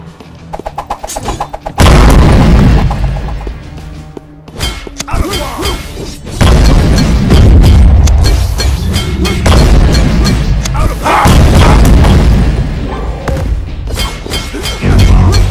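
Bomb explosions in the PC video game Conan Chop Chop, a series of loud booming thuds bursting one after another over game music and effects, with heavy low-end blasts dominating the clip.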